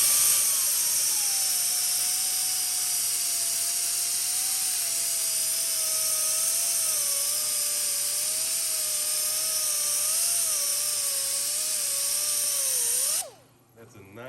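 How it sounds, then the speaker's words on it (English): A 3M whiz wheel disc resurfaces a warped StopTech brake rotor, producing a steady, loud high-pitched grinding whine with a slightly wavering tone that holds for about thirteen seconds before abruptly cutting off. "And then I like to get my whiz wheel, my 3M disc, and then I start in the center inside and work my way out."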